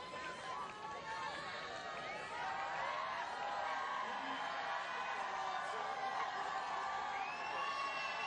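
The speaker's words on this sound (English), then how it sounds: "Crowd doing their best to make it awkward for Grimwood." Loud, continuous crowd noise at a Commonwealth Games men's compound archery team final, a steady roar of voices and whoops during an England archer's shot.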